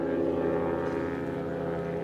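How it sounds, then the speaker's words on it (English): A B-52 bomber passes overhead, a steady, rumbling propeller-like drone that holds at an even, moderate loudness throughout with no other sounds. "can you hear the airplanes going over?"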